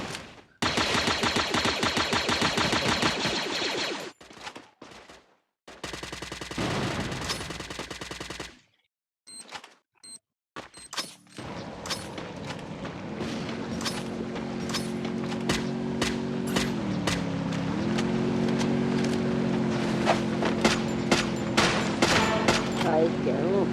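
Rapid bursts of automatic gunfire in a ranked match of a shooter video game, loud and dense at first, then sporadic shots over a sustained game tone and background voices.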